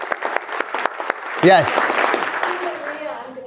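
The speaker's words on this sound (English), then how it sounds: "Let's give him a round of applause." A round of applause for a team rises in a real estate marketing class, with clapping swelling midway through and continuing under people talking.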